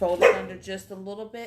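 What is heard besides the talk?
dog barking in the background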